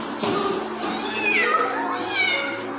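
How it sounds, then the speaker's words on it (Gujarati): A cat meows in two drawn-out, rising-and-falling calls, close and clear, over a faint steady background hum. "બિલાડી"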